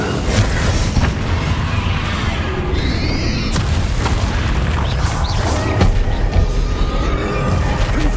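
Explosive blasting spells in the Hogwarts Legacy video game, a loud continuous barrage of booms, bursts and crashes layered over rumbling battle noise.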